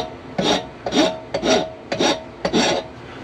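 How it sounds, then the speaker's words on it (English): Coarse half round mill bastard file rasping across knife steel during rough shaping: five close strokes, each a gritty swell with a short pause before the next, with no talking. "Very coarse half round mill bastard, I believe that's called. Very coarse to take up all the rough stock."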